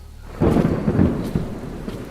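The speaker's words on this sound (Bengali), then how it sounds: "দূরে কোথাও ভীষণ জোরে বাজ পড়ে।" A sudden thunderclap rumbles in as a sound effect in a spooky audio story. It breaks loudly, then rolls on for a couple of seconds over faint rain.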